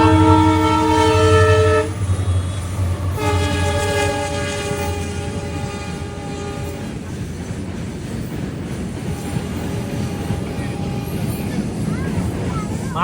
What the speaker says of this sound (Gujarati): માલગાડી લાગે છે.